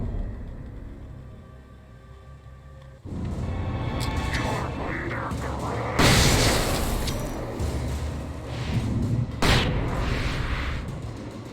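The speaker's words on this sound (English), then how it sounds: "Can I just spam him with flashbangs?" Flashbang grenades go off in the game Alan Wake Remastered, with a sharp loud burst near six seconds and another near nine and a half, over constant game noise and rumble.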